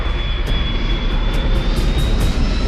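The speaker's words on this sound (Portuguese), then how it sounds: "O avião baixa." An airplane descends through fog toward a runway, its engines roaring loud and steady in a continuous, close-sounding drone with a faint high whine on top.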